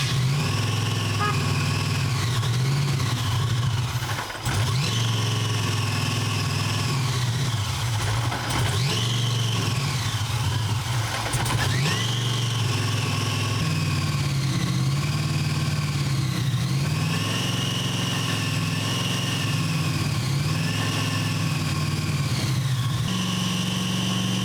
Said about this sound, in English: We got this thing running like you guys just saw, idling, revs up nice